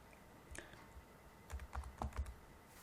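Keystrokes on a computer keyboard while writing SQL code: a few isolated taps early, then a quick cluster of sharp clicks in the second half, close and fairly quiet against a soft room hiss.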